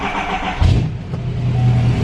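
A Chevrolet L5P Duramax diesel pickup cranks on weak batteries, a loud sluggish starter grind near the mic that catches into a low engine rumble partway through, with no talking.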